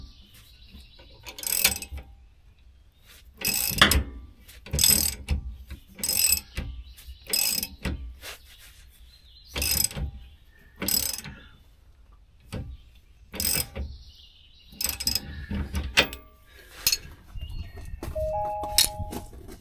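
A ratchet wrench tightening the rear mounting bolt of SuperSprings on a Ford Transit, giving close, sharp bursts of rapid clicking in repeated strokes with brief pauses between them.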